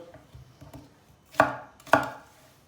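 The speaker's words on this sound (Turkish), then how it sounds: "Soğanı doğrayarak başlayalım." A knife chops through onion on a board, with a few light taps and then two sharp, loud chops close by. No talking.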